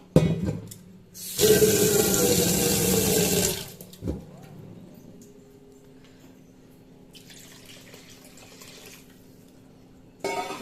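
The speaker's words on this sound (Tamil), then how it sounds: "இன்னும் கொஞ்சம் தண்ணி ஊற்றுவோம்" Water gushes loudly in a steady pour into a cooking pot for a couple of seconds, then trickles and splashes faintly before another brief rush at the end.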